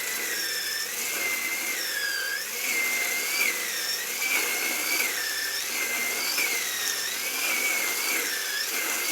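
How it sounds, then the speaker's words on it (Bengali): A new wood splitting machine working through logs gives a steady mechanical drone with a repeating rising-and-falling whine that cycles every couple of seconds, loud and continuous, with no voices. "এটা আবার নতুন গাছ কাটা মেশিন, সুন্দর করে ফাটতেছে।"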